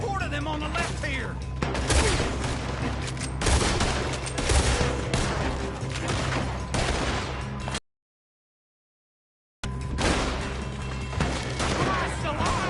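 Dense gunfire rattles through a Red Dead Redemption 2 shootout, overlapping shots and bursts crowding together loud and close, with game dialogue voices mixed in, broken by a sudden silent gap before the firing resumes.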